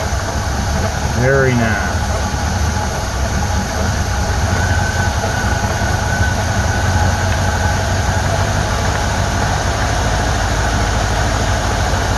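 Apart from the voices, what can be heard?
Chinese Ford 2100 tractor engine idling with new carburetor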